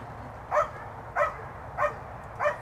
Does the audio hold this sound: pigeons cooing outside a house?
no